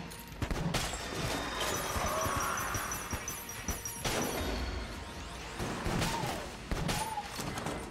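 Rapid gunfire from the top-down shooter Enter the Gungeon, with a Luxon Cannon among the weapons, crackling in dense bursts and volleys with crashing impacts throughout, loud and continuous.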